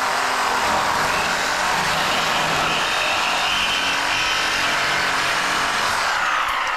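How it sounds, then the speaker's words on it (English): A Milwaukee cutoff tool grinds steadily through a large brass statue, a loud continuous abrasive whine and hiss that holds for several seconds without pause. "Oh man, we got our cutoff."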